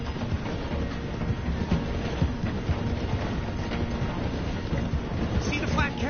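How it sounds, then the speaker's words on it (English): A train rolls steadily through a station while slowing down in the Red Dead Redemption 2 video game, a continuous rumble with faint clatter and wind for several seconds. "The train is slowing down to go through the station."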